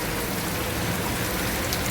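Rain falls in a steady, dense hiss, broad and continuous with no break or voices.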